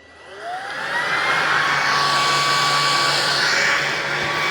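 A Bissell pet vacuum cleaner, model 4173 or FurFinder 4052, spins up and then roars steadily on high speed over carpet, a loud close whine and rush of air that holds constant after a quick ramp-up.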